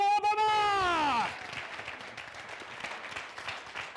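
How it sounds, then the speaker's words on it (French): Audience applause on a Burkinabe TV entertainment show, a soft wash of clapping that follows a loud sweeping tone and continues at moderate level under faint voices. "Applaudissements pour Obama!"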